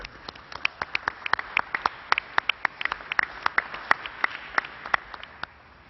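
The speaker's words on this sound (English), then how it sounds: "Let's give New Yorkers a round of applause." A small press-briefing audience gives sparse, scattered claps, individual sharp hand claps spaced irregularly over a quiet room rather than a full ovation.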